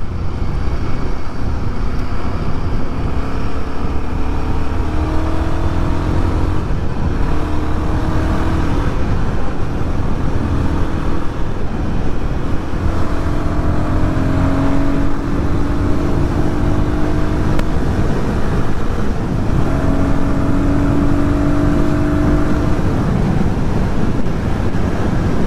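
A Royal Enfield Guerrilla 450 motorcycle pulls hard in second gear, the engine note rising in repeated surges beneath loud, constant wind rush from riding at speed.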